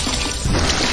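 Water pours in a short, loud, close gush in a cooking challenge, with no gaps.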